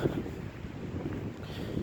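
Wind gusts across a cemetery on a windy day, buffeting the microphone in a low, uneven rumble that stays fairly quiet throughout.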